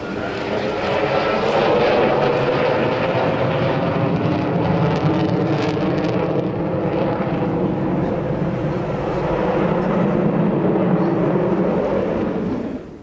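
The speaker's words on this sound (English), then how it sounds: "Lifting it into the air are two powerful Lyulka AL-31 turbofans." A Ukrainian Sukhoi Su-27 two-seater interceptor with twin Lyulka AL-31 turbofans flies at the Malta International Airshow, a loud, continuous, broad jet roar that swells and eases slightly as it passes, with no talk.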